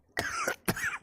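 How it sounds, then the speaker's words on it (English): Two close, harsh coughs in quick succession, each short and raspy, with no talking. "That about pulled a cough right out of me."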